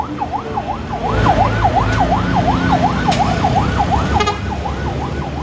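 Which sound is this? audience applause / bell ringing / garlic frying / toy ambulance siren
toy ambulance siren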